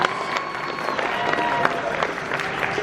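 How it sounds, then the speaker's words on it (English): A crowd applauds at a horror convention costume contest in Lexington, Kentucky, as a placing is announced. The clapping is brisk and dense, with a few sharper nearby claps and faint voices mixed in, lasting under three seconds. "One more round of applause."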